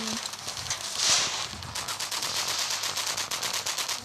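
Rapid automatic gunfire in the video game CyberSphere rattles in quick, regular bursts throughout, fairly loud against a busy game background.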